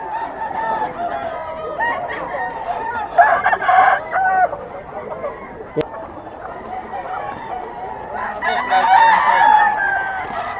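Roosters at a Pampanga poultry breeder's farm crow and cluck, with two louder bursts of crowing standing out over steady background clucking and faint murmuring voices.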